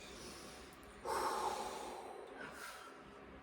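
One deep, forceful inhale through the nose, close and sudden, followed by a long audible exhale that trails off, with no talking.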